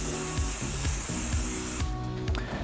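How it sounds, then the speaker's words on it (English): A continuous close hiss of hairspray misted onto a soft brush for styling hair, steady for nearly two seconds and then stopping, with faint handling sounds after. "What we want to do is just spray a light mist onto a soft brush."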